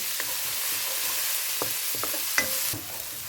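Sam kler paste of garlic, coriander root and pepper stir-fried in a hot pan, a steady soft sizzle broken by scattered scrapes and clinks of a spatula against metal.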